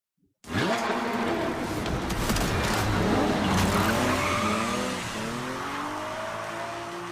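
Race car driving fast on a dangerous mountain track, tires skidding and squealing over a loud roaring engine that sweeps up and down in pitch, then eases slightly toward the end, with no talk.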